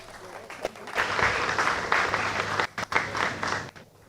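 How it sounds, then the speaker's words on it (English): An audience at a project managers' mixer event breaks into applause, a dense burst of clapping that swells after a moment, holds strong, then thins out toward the end. "A round of applause for her, please."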